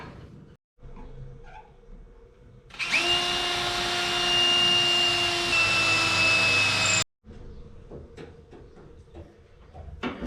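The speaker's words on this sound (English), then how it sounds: "Okay, so got my holes drilled in there." A power drill with a 5.5 mm bit drills holes for about four seconds, a loud, close, high whine that holds steady and then cuts off sharply, with quieter handling noises before and after.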